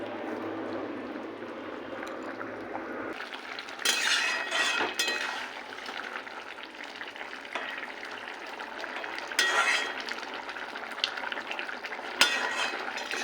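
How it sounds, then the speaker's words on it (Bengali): Potato gathi curry bubbles in a pot with a continuous frothy hiss, broken by several louder clinks and stirs of a utensil against the metal. "এবার এটাকে ফুটতে দেবো।"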